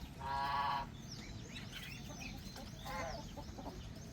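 Chickens on a farm cluck and squawk, with two louder honking calls and scattered smaller chirps over a steady background of faint rustle, moderately close.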